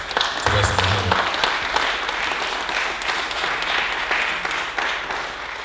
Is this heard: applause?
yes